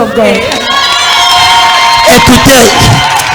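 A worship crowd cheers and shouts loudly and continuously at close range, with whoops and raised voices blending into a dense roar.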